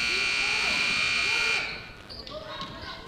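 A basketball shot clock buzzer blares loudly at a girls' game for about one and a half seconds, then cuts off as crowd noise and voices continue in the gym.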